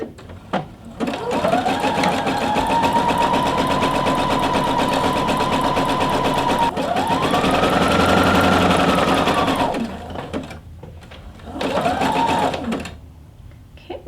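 Sewing machine stitching a reusable produce bag in long, loud, close runs: a steady whirring motor that speeds up and slows down, pausing briefly between stretches of stitching, with no speech.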